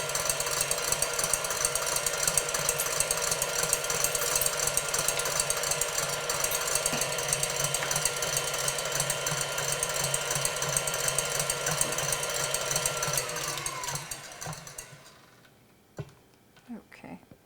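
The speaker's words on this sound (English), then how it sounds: "we will mix it for a few more minutes so it gets to a satin peak" An electric mixer whips egg whites with cream of tartar for a pavlova, a steady loud whirring drone running nonstop for about fourteen seconds before cutting off, leaving a few faint clinks.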